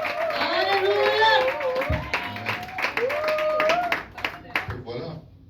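A church congregation claps and cheers in acclaim during a worship service, quick bursts of applause under a loud voice calling out, tapering off toward the end.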